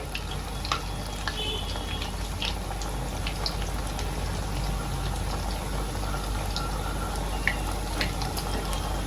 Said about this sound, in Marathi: आता ह्याला चांगलं मी तळून घेते